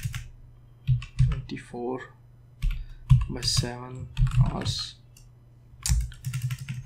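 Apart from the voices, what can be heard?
typing on a computer keyboard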